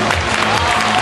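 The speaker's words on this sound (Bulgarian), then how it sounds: "Аплодисменти за всички състезатели." At a bodybuilding men's physique competition in Plovdiv, an audience gives a brief, loud burst of continuous applause for the competitors, dense clapping at a steady level throughout.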